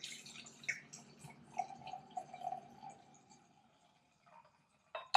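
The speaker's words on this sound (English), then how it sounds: "And here's the pour." Passion fruit drink poured into a rinsed glass, a light liquid trickle and splash running steadily for a few seconds, then tapering to faint drips before a sharp clink at the end.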